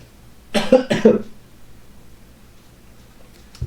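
Two loud coughs in quick succession, close to the listener, followed by quiet room noise.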